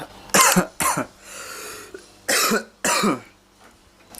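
Several harsh coughs come close to the mic, two pairs of sharp bursts separated by a quiet pause with faint breathing.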